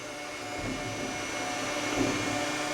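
A jib crane's motor drones steadily as the machine swings to one side, a constant mechanical whine and hum with faint tonal lines, close and even in level, with no talk.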